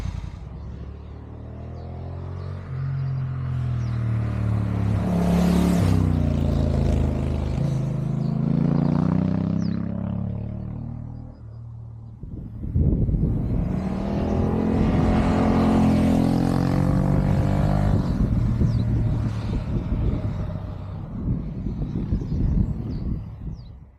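A Honda NT1100 DCT motorcycle makes two loud passes, each engine note rising as it approaches, climbing through gears, then fading as it pulls away, with no talk.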